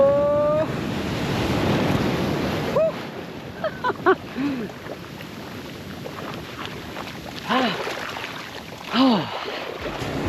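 Strong surf and a fast ocean current wash steadily at a beach as a broad roar under wind buffeting, with short exclamations and voices rising in between.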